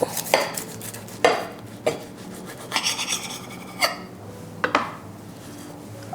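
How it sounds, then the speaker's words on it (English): A knife slices through a grilled, sealed vegan burrito wrap on a cutting board, giving several crisp scraping cuts and clacks against the board, spaced irregularly and close. "I'm just gonna slice this baby up."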